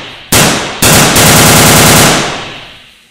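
AK-47 rifle firing on full auto: a loud, close burst breaks out, a second burst follows half a second later, and the rapid fire then runs on steadily for more than a second before trailing off.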